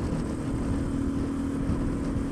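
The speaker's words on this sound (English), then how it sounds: "The intake is louder than the exhaust" Steady, loud intake roar from a Suzuki DR650SE motorcycle fitted with an FCR-MX carburetor, a constant low droning hum with no breaks and no voices.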